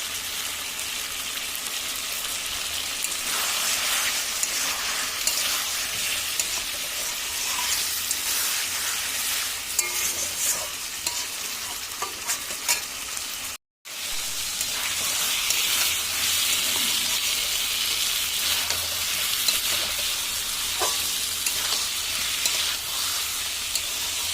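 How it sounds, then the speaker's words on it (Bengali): Eggs sautéing with turmeric and meat masala in a pan give a loud, continuous close sizzle and crackle that runs throughout, broken only by one very brief moment of silence midway. "আমার ডিমটা ভালো করে কষানো হয়ে গেছে"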